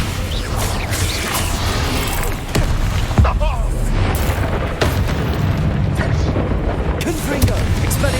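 Hogwarts Legacy spellcasting, including the Incendio fire spell, produces a busy string of booming bursts and sharp cracks over a steady low rumble, loud and close.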